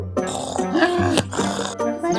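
A cartoon jackal belches after eating, a series of drawn-out, voiced burps and grunts, close and loud, repeated several times.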